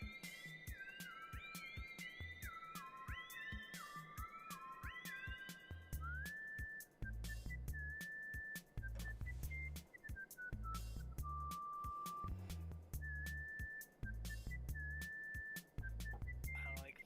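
A bright, melodic whistled tune with sliding pitches drifts over steady, bass-heavy background music from the puzzle-platformer game Neko Ghost, Jump!, continuing throughout without speech.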